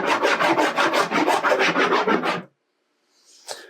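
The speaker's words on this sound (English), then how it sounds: "I can rub a bit of rubber on it now, look." Golf club rubber grip rubbed quickly back and forth against a surface treated with ScuffGard, a close, loud rhythmic scrubbing of about a dozen strokes, then silence and a faint brief scrape.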